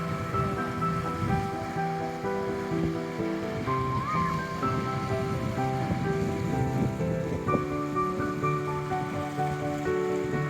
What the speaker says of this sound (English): the sound of the waves, the wind, the warm sun